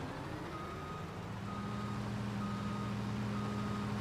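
Steady reversing beeps from a wheel loader in Farming Simulator 19, sounding over the continuous drone of its diesel engine at a snowy site, loud and close with no talking.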